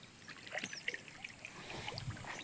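Khillari bulls drink cold morning water, giving faint, scattered slurps and small trickling splashes that come and go over a low background.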